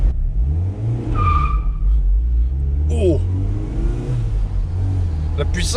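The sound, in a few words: Mazda MX-5 NC 1.8L engine revving while driving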